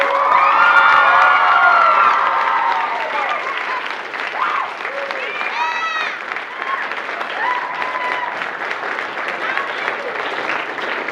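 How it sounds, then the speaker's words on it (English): Audience applause and cheering at a school play performance of Mystery at Shady Acres, loud and sustained with children's shouts and whoops over dense clapping, fading slightly while continuing to the end. "Another round of applause for our two amazing play directors, Mrs. Stark and Mrs. Biswell"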